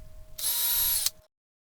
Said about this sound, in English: and now we'll drill them in